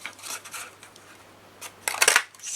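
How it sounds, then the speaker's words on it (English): A handheld paper circle punch cuts 1 inch and 1 1/2 inch paper circles for a snowman ornament, giving a few short crisp snips and scrapes, close and fairly quiet, with a sharper crunch of the cut near the end. "I will punch out this 1 inch here and 1 1/2"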